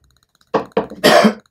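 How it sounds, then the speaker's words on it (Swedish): A sick person coughs close up: two short harsh coughs, then a longer rougher throaty cough, all loud and alone against silence. "Ursäkta hostan, jag har legat sjuk rätt länge."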